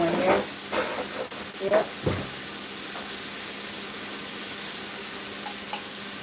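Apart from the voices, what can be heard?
rinsing food under running tap water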